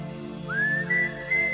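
A person whistles a short rising note that glides upward and holds at a clear, steady pitch over a low background hum.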